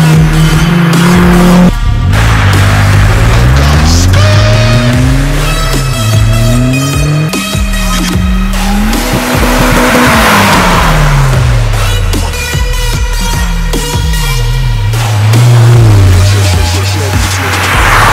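Rally cars, a Subaru Impreza WRX STI, Toyota Celica GT-Four and Mitsubishi Lancer Evo, race hard with engines rising and falling through gear changes and repeated loud tire squeals, close and continuous without talk.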